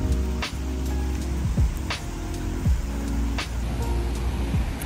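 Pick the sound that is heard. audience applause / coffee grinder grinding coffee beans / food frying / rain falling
rain falling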